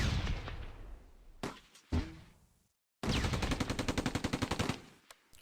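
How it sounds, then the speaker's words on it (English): Counter-battery artillery fire in the WWII strategy game Close Combat: a few heavy booming blasts and a short silence, then a rapid, loud rattling burst of repeated shots that fades at the end. "I decide on some counter-battery fire."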